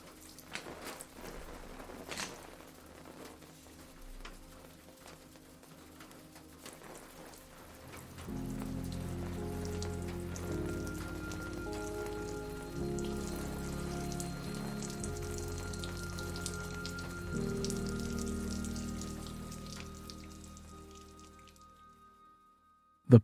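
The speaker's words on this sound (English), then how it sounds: "The only sound between them was the persistent dripping of water leaking in from the roof and splashing in puddles on the floor" Steady patter of water dripping from a leaking roof and splashing into puddles on the floor, dense and continuous, growing fuller midway before fading out gradually.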